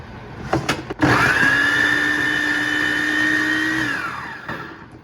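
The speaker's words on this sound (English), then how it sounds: "I'm just gonna blend this up and make a noise. It's gonna be loud." A blender whirs loudly at high speed for a few seconds blending homemade salsa, its motor whine holding steady before winding down, after a few brief clicks.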